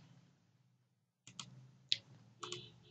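Keys tapped on a computer keyboard in a quiet room: near silence at first, then a few sharp, separate clicks in quick bursts, close and crisp.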